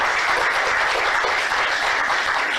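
Dense, even applause from an audience at a talk on Fukushima lessons for California, a continuous wash of many hands clapping at steady volume throughout, with no voices over it.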